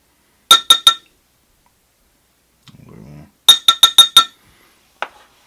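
A metal spoon clinks against a glass jar while scooping turquoise glitter for soft plastic bait: three bright rings, a soft scrape, then a quick run of five clinks and one last tap, all close and clear in a quiet room.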